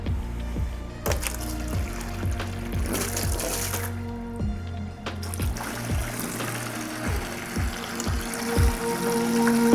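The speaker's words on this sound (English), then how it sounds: "Let's get started on draining the tank." Water draining and trickling out of a planted aquarium tank during a rescape, a steady close wash of running water with rhythmic pumping pulses and clatter throughout, no talking.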